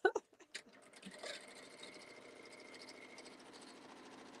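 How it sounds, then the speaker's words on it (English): A sewing machine stitching fabric: a few loud clicks and knocks at the start, then a steady, fast mechanical whir that runs to the end at a quiet level, nearby, with no clear talking. "it looked like you were sewing the long sides"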